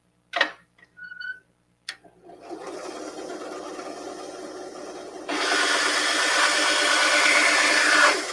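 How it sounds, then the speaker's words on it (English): A bandsaw whirs up after a few clicks and runs with a steady, bright mechanical hum that grows louder midway, close and alone. "let's fire up the bandsaw"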